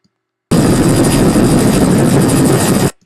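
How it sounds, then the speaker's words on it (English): A loud helicopter roars close by, its rotor thumping steadily for a couple of seconds before cutting off abruptly. "There is a very loud helicopter playing in the background"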